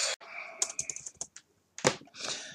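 Keys on a computer keyboard tapped in short bursts, a quick cluster of close clicks, a pause, then another brief flurry, with no voices.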